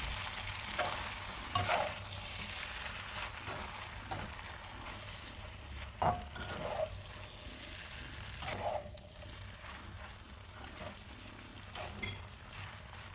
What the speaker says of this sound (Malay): Kacau-kacau sehingga sebati.